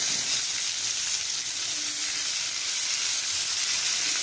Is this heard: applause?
no